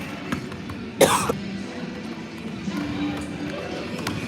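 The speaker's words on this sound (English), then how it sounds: "Once again, I'm deeply sorry for my cough." A single sharp cough bursts out about a second in, close and loud, against a quiet background at a girls' basketball game livestream.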